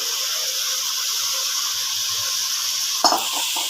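Washed rice is stirred into cooked dal in a pot over a steady, faint simmering hiss, followed near the end by a short burst of scraping and stirring.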